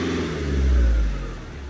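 A car stuck on a rough spot revs its engine while people push it out, a close, low rumbling engine note swelling to one rev and easing back.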